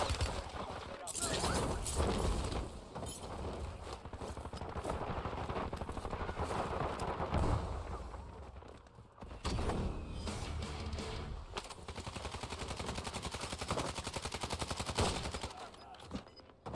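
Heavy, sustained gunfire in a Call of Duty: Warzone match, loud overlapping bursts and volleys filling most of the stretch with a brief lull midway, while a voice talks over the shooting.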